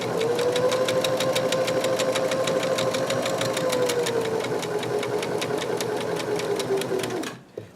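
Sewing machine stitching fabric for a pillow, humming with a rapid regular needle clatter up close for several seconds before it abruptly stops.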